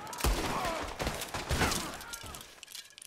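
A shootout in Red Dead Redemption 2 brings several sharp gunshots in quick bursts, with thuds and shouting voices mixed around them.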